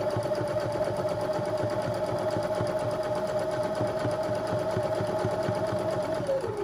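A sewing machine runs a steady zigzag stitch through flannel, a fast, even mechanical whir and needle patter close up that holds constant throughout, then slows slightly at the very end, with no voices.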